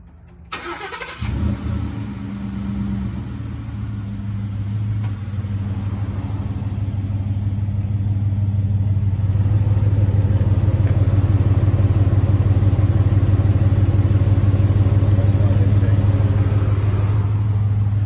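Fishing truck engine with an upgraded intake cranks and starts, then settles into a loud, steady rumbling idle that builds slightly as it revs, close up with no talking.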